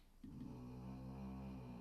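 A dog named Soap snores in a low, droning tone, starting abruptly and then holding a steady, buzzing rumble at a faint, close level with no speech over it.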